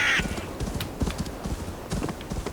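Horse hooves clopping in rhythm in the video game Assassin's Creed Valhalla, a steady run of close, dull thuds with a brief high tone at the start.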